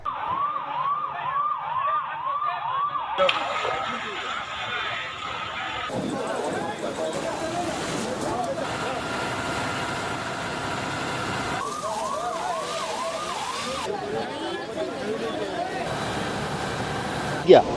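Several fire engines with wailing sirens arrive at a building fire, their rising and falling tones loud and continuous, shifting between siren patterns over engine rumble and busy street noise, with people talking underneath.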